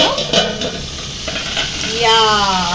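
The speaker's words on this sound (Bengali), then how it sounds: "এই যে চাটনি ফুটছে আর মাংস" Chutney bubbles in a kadai beside meat, giving a loud close sizzle with spatula scrapes and light metal knocks, plus a faint tonal voice-like sound near the end.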